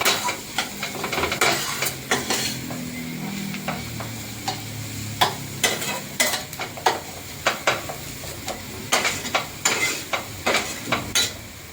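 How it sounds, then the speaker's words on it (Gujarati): Spices fry in a pan for a samosa filling, a soft sizzle under repeated sharp scrapes and taps of a spoon stirring against the metal. "આમાં મસાલા નાખીને તમે સાતળી રાખો ને તો મસાલાનો સ્વાદ બહુ મસ્ત આવે છે."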